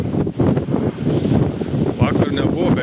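Near Keflavik, Iceland, a powerful storm wind at the shore blasts the microphone with steady, rumbling gusts. Brief voice sounds are mixed into the roar.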